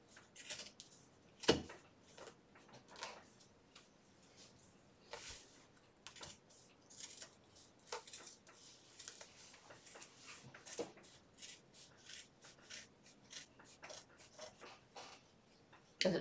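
Scissors cutting and trimming drapery fabric at a worktable, giving quiet, irregular snips and rustles with a few sharper clicks, close and faint with no talking.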